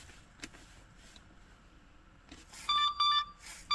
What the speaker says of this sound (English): And once again we have that beep.